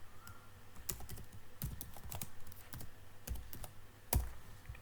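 Fingers typing on a computer keyboard, producing faint, irregular clusters of light key clicks close by against a low background hum.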